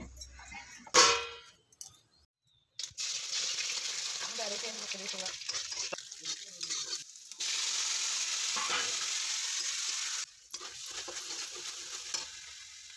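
Chowmein and Maggi noodles fry and sizzle in oil in a pan with salt, mixed with stirring scrapes and metal clangs, in bursts separated by brief pauses.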